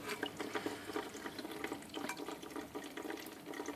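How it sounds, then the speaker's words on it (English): Water leaks from a long union on a pump, giving a steady, fairly faint stream of splashing and dripping with no talk over it. "You can see the dripping."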